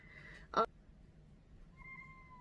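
A short, sharp sound is followed by a single clear meow from a cat nearby, in an otherwise quiet room.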